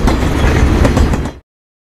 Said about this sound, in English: Max passed by with the train to the Portland local.